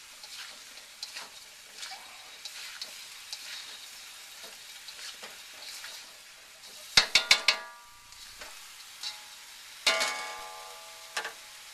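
Rough-cut onion cooking with beef and five-spice powder, a soft steady sizzle up close broken by a quick run of sharp metallic clanks of utensil on pot and a later knock.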